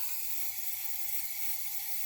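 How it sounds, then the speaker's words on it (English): Brake cleaner sprays in a steady, loud hiss into an engine cylinder head port during the build of a GM 2.4 Twin Cam engine, continuous for about two seconds and then cut off. "spray a little bit of brake clean in there"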